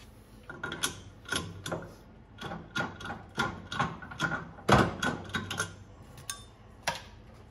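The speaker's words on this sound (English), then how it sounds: "Let's put that back in the lathe and trim the outside." Metal lathe trimming the outside of a steering wheel hub for a 2/3 scale D-type Jaguar build, a run of rhythmic mechanical clicks and scraping bursts, fairly close and moderately loud, with no talking.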